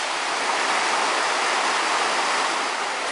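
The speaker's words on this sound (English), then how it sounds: "Because of the big rain, they are new waterfalls here." Small waterfalls swollen by heavy rain on a mountain in early summer in Japan pour in a steady, loud, broadband rush of water that stays even and continuous with no voices.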